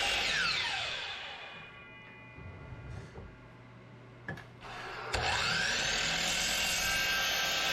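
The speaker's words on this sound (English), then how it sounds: "so I'll go through and chamfer off the four corners" A power tool chamfers the corners of walnut couch table legs, a loud steady whine at the start that fades, quieter spells of sporadic contact, then a sharp restart into sustained cutting noise.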